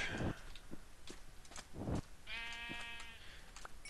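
Sheep bleat in a blocky survival video game, with a drawn-out harmonic bleat in the second half and brief bursts of game sounds before it, heard clearly with no talk.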